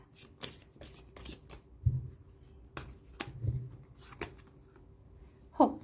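Tarot cards being shuffled and handled, giving soft scattered riffles and taps in a quiet room, with a few louder thumps spaced through the passage.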